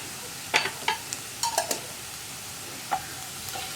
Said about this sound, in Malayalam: ഇതൊന്ന് ഇളക്കി മിക്സ് ചെയ്യുക.